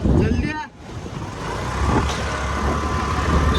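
A Royal Enfield Bullet motorcycle engine rumbles steadily at close range, running continuously under brief talk at the start.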